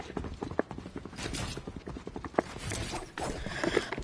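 Rapid footsteps of several nearby players in a video game, a steady clopping patter with a few sharper hits over busy game noise.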